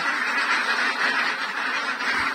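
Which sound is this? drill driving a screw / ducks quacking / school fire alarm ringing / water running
ducks quacking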